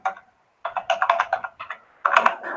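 Rapid clicking keystrokes on a computer keyboard as text is entered into a translation box, an uneven patter of close, crisp taps in two short bursts with a brief pause between, no speech.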